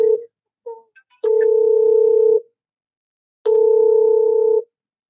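Telephone ringback tone from an incoming call-in caller on a live show: two long, steady, loud tone bursts of about a second each, separated by a pause, with brief tone blips before them and no talk.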